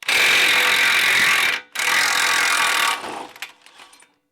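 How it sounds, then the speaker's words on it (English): A 32 mm socket on a power tool spins off the front axle nut of a 2013-2019 Ford Escape, two loud sustained bursts split by a brief pause, then a fading rattle. "Now I've got a 32 millimeter axle nut socket to remove the axle nut here."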